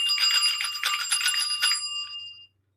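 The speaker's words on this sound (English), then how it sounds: "Steve, I got a bell. This bell is for you." A hand bell rung close and loud, a rapid bright jingling shake that rings out and then fades into silence.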